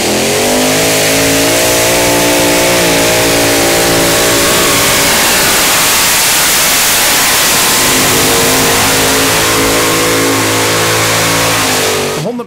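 The powerful engine of a tractor-pulling tractor roars at high revs for a long stretch at a pulling event, loud and close, holding steady with slight dips before cutting off at the end.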